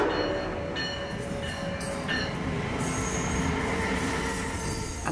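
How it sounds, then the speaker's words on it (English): An Amtrak passenger train rolls past at a grade crossing, a loud continuous rumble with squealing wheels and metallic rail tones sustained throughout. "here is a friendly Amtrak train."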